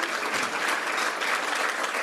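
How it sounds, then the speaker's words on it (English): An audience at a Rotary gathering applauds steadily, a dense continuous patter of many hands clapping close by with no pauses. "So you guys should all give yourselves a round of applause"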